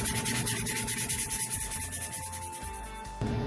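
Abrasive sanding on a dyed lacrosse head, stripping off dirt, old glue and scratches; steady rapid back-and-forth rubbing strokes, close and loud, running alone before stopping near the end.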